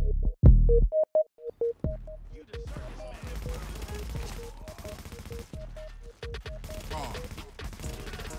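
Lightweight M4 rifle fired in The Division, with a few single shots at first, then sustained rapid bursts of gunfire with an in-game tone audible between volleys.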